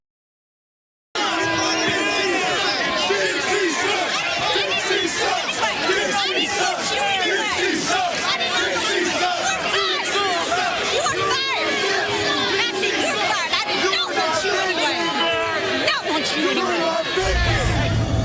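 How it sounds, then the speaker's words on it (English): A packed wrestling arena crowd roars and chants continuously at high volume, a dense unbroken wall of massed voices and cheering, with a sharp cut to quieter noise at the very end. "the crowd chanting, "You're not Vicky.""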